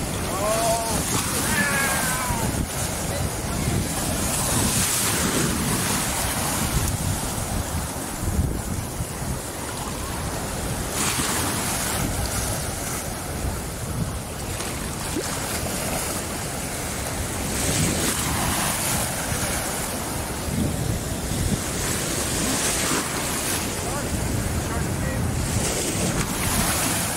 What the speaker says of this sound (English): The waves are pretty decent